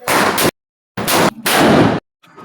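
Three loud, close Diwali firecracker blasts, each a harsh burst of noise about half a second long with abrupt gaps of silence between, the last one fainter.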